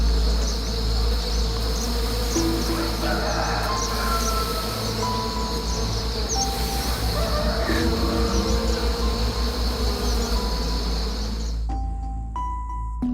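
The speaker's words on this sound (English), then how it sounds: "In fact, these are wild bees." A swarm of wild bees at their nest gives off a dense, continuous buzzing drone, loud and close throughout, and ends in a sudden cut.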